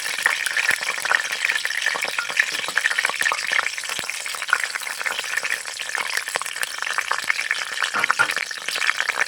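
Bay leaves and two dried red chillies crackle and sizzle steadily in hot oil, a dense, continuous frying hiss with scattered sharp pops throughout, close and fairly loud with no talking.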